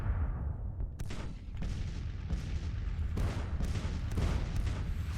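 Brigade musket fire from the Civil War strategy game Grand Tactician crackles in scattered volleys and sharp reports over a low rumbling battle bed, moderately loud, with no voices.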